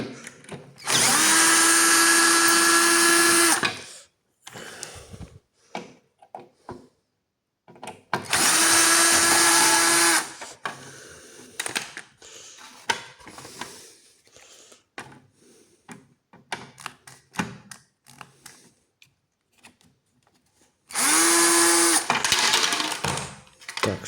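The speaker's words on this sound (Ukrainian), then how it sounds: "Так, відкручуємо щиток." Power screwdriver unscrewing a panel on an electric scooter, sounding in three loud, steady whirring bursts of about three seconds each, separated by quieter clicks and handling noises.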